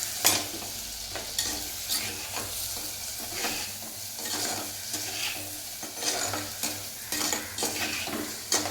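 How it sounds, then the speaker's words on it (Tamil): Tomatoes sizzle in a hot pan for a village-style fish curry (meen kulambu) while a spoon scrapes and stirs them in steady, repeated strokes. The frying hiss is continuous and close. "இந்த தக்காளி நல்லா தெரியாத அளவுக்கு நல்லா வதக்கி விடணும்"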